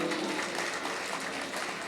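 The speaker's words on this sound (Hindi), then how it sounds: "एक बार तालियां बजा के इजाजत दें" Audience at a ghazi poetry gathering clapping, a steady moderate patter of many hands filling the short stretch without pause.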